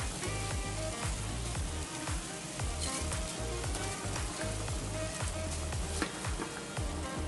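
Drained rice going into a pot of boiling mushroom soup, with a steady bubbling, sizzling wash of sound that runs on evenly throughout, close by and without speech.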